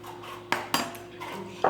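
A metal spoon is pulled from a pile of kitchen dishes, giving several sharp clinks and clatters of cutlery against crockery in quick succession, close by and without speech.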